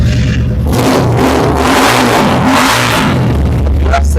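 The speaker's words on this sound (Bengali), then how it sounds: "বাইকটা কিন্তু রিমোটে স্টার্ট হয়ে গেল" A bike styled after the YCR 1050cc, started by remote, revs continuously and loudly up close, its engine note rising and falling in waves with no pause.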